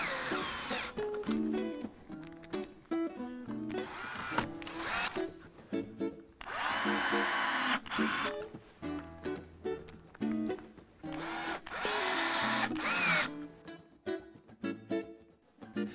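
Power drill driving screws into southern pine chair slats, repeated loud whirring bursts of a few seconds each, rising and stopping with short gaps between, close up.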